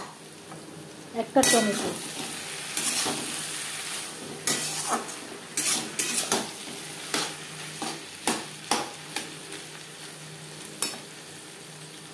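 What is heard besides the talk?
stirring eggplant with spices and tomato in a pan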